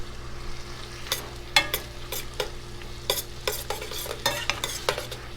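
Cherries and citrus zest are stirred in a hot pan, with a soft sizzle under a run of close, rhythmic spoon scrapes and clacks against the metal and no voices.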